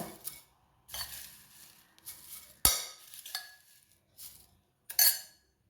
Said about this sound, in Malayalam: ഇതാ നമ്മുടെ പ്ലേറ്റിലേക്ക് ആദ്യം അവിലിട്ട് കൊടുക്കുക